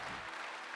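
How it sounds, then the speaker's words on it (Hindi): A crowd of devotees at a Swami Ramdev yoga gathering breaks into loud, steady applause, a short wash of many hands clapping together. "एक बार जोरदार तालियां बजा के प्रभु के चरणों में प्रणाम करिए"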